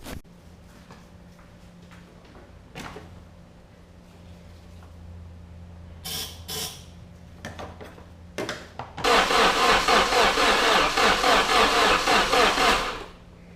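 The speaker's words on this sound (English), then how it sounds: "I'm going to give it a start fluid and try it again." Starting fluid is sprayed into a Nissan S13 240SX engine, then the engine cranks and catches: several short hissing bursts and clicks are followed by a loud, dense roar that runs about four seconds, close by, before stopping abruptly.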